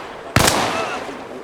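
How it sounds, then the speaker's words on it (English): A single sharp gunshot cracks out in the combat video game Arma Reforger, loud and close, followed by a long fading echo and no other sounds. "Yeah, they're shooting each other."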